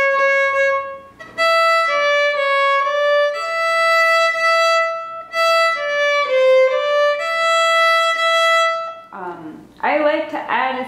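A fiddle plays the old-time tune Cold and Frosty Morning using a C natural, with clear bowed notes stepping through the melody, close and bright, pausing briefly before a short burst of voice near the end.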